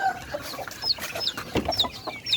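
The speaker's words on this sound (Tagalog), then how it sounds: "Malaki na yung mga manok natin" Several chickens cluck and chatter close by, with overlapping short squawks and clucks in an irregular, busy rhythm.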